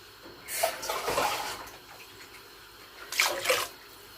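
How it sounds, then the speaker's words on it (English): Water is poured into a pot of Mexican bean stew in two distinct splashing bursts, the first longer and the second brief, close and fairly loud with no talk. "I'm going to add a drop more water."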